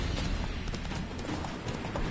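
Hooves of a horse in The Witcher 3 clip-clop in a steady rhythm, close and fairly loud, with no talk over them.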